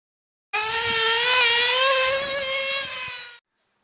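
A Mugen nitro RC car with a race-tuned Works V6 engine screams at a high, steady pitch for about three seconds, then cuts off abruptly, loud and close with no talking.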